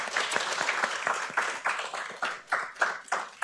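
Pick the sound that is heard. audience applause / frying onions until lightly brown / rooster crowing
audience applause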